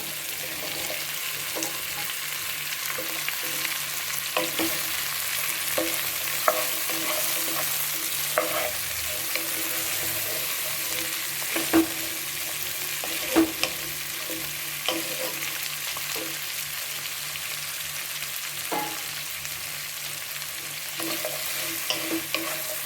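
Drumstick pieces, onion and mixed vegetables sauté in a pan for sambar, making a steady close sizzle for over twenty seconds, broken by occasional clicks and scrapes of stirring, with no voices.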